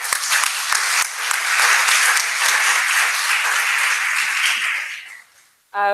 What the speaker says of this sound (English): let's have a final round of applause for all of our flash talks today.